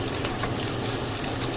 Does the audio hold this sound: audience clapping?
no